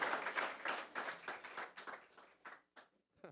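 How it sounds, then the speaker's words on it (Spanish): Audience applause for two young guests, a burst of fairly quiet clapping in rhythmic surges that thins out and fades to a few last claps. "Vamos a darle un fuerte aplauso a estos dos chicos que hoy nos acompañan."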